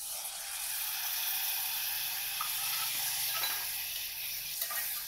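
Cumin, carrots and tomatoes frying in ghee for a baby-food tempering give a constant bright hissing sizzle, close and steady, with occasional soft clinks and stirring noises and no talking.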